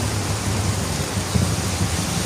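Heavy typhoon rain pours steadily as a dense, continuous hiss with low rumbling underneath, loud and unbroken throughout, with no voices.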